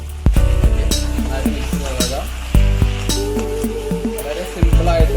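Boiled fettuccine pasta is stirred into a sizzling Indian-style beef fry in a hot pan. A steady frying hiss runs under repeated scrapes and clinks of a utensil, and a voice talks over it.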